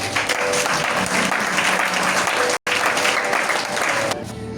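A church congregation applauds loudly and steadily throughout, with dense clapping broken by a momentary gap, then continuing before easing slightly at the end.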